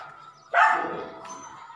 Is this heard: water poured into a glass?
no